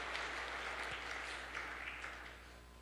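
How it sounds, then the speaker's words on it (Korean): Steady audience applause fills a church service, a sustained round of clapping from a congregation that slowly tapers off, moderately distant, with no talk over it. "박수로 다시 한번"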